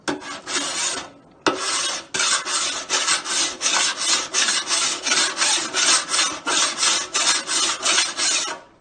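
A hand metal file rasps steadily across a dented panel during dent repair, a close run of rhythmic back-and-forth strokes after one short pause, with no talking.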